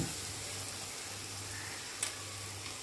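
Faint, steady sizzling of a tender cashew vegetable with tomatoes and turmeric frying in a pan, with a brief scrape of stirring partway through.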